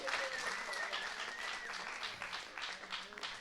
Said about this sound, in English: Let's give another warm round of applause to the League of Legends runners-up